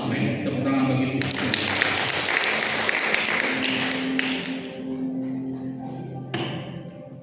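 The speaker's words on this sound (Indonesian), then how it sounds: "Tepuk tangan bagi Tuhan" Congregation clapping hands together during a Sunday morning church service, a dense burst of claps that fades out partway through.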